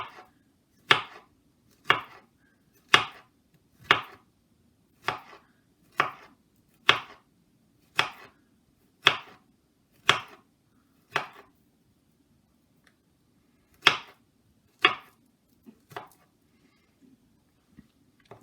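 A knife chops through banana slices on a cutting board while preparing banana and chocolate muffins, about fifteen crisp, evenly spaced thuds close by, pausing briefly before a few final cuts, with no voices.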